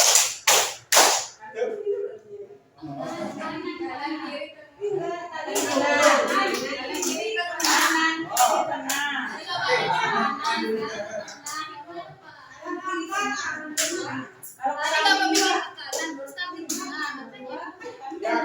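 A group of people, children among them, play a clapping game, their hands striking together in short bursts and counted rounds. A leader's voice calls instructions between the sets of claps.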